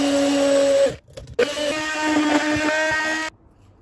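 A blender whipping instant coffee, sugar and hot water, a loud steady motor whine that briefly stops, restarts and then cuts off.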